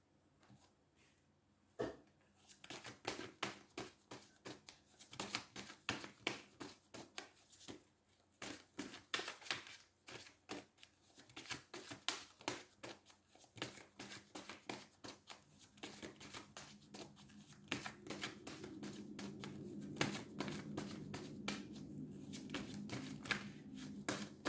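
Tarot cards are shuffled by hand in a quiet room, a long run of rapid riffling flutters and soft slaps in bursts, close-up and fairly faint, with a faint murmur toward the end.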